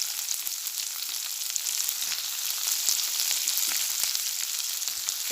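Chopped onions and capsicums frying in a pan while making stuffed suji idli, giving a steady soft sizzle with faint crackles and occasional stirring, heard alone without talk.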